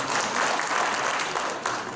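An audience at a sports taping instruction workshop gives brief, steady applause, a dense wash of many hands clapping together at moderate volume.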